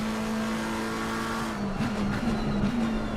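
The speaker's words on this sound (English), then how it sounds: "the Porsche takes off again, leaving the McLaren in the dust" Porsche race car in Assetto Corsa Competizione at Laguna Seca, its engine droning steadily at a held pitch, then rising and wavering as it accelerates away, loud and continuous with no talk.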